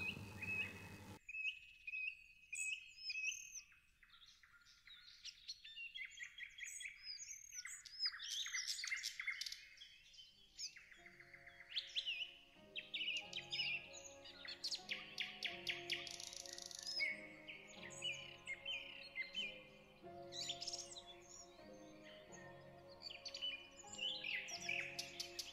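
Several birds sing and chirp in bright, overlapping bursts that continue throughout, with quick tweets and longer melodic phrases, some near and some farther off.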